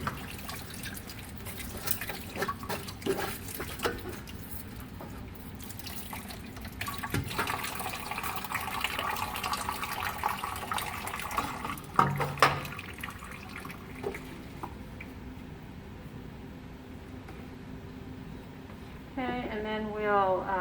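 Water and a stream sample are poured into a white tray, giving soft trickling, splashing and dripping sounds. Someone talks over parts of it.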